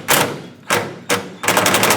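An impact wrench drives a bolt on a 1994-2004 Chevrolet S10 fuel tank in three loud, short hammering bursts, then a longer rattling run, close and with no talk.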